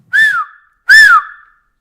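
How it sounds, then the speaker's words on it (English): A train conductor blows two loud, sharp whistle blasts, each rising then falling in pitch, separated by a short gap, in an otherwise silent background. "Then he waves a flag and blows his whistle."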